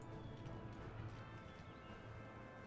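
Faint, steady drumming of many hooves as horses gallop together in the video game Empire: Total War, distant and continuous with no clear breaks.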